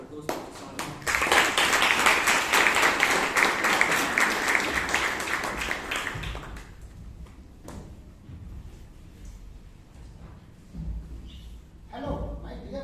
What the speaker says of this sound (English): Can we please give a big round of applause for Toastmasters?